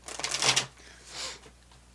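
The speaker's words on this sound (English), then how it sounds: "I'm going to give this one more good shuffle." Oracle cards being shuffled by hand, a quick papery riffle and flutter that rises in a short burst, then a softer second ruffle, close and fairly quiet with no voices.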